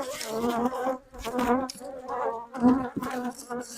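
Honeybees buzz loudly and close by during a hive inspection while honey stores are checked, a continuous droning hum with wavering pitch filling the whole stretch.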